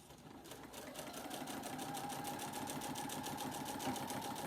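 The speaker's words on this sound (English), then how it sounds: "That's what I'm stitching on, is right onto the binding right here." A sewing machine runs steadily, stitching onto the binding of a mini quilt, with a close, even, rapid mechanical whir and a regular needle rhythm throughout.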